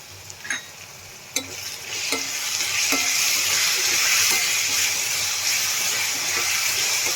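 Spoon scrapes and stirs through fenugreek greens in a pan with salt and turmeric, a few clicks early on, then a steady broad sizzle builds and holds.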